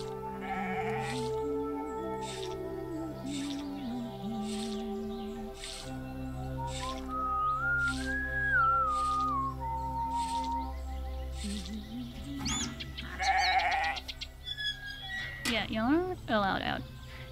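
Goats on a farm in the video game The Stillness of the Wind bleat in short, wavering calls under a steady rhythmic ticking game soundtrack, with a few louder bleats near the end and a voice talking over them.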